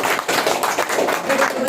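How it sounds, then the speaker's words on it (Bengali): An audience clapping together at a team management seminar, a dense, steady patter of many hands that fills the short moment without any talk over it. "জোরে একটা করতালি দেন"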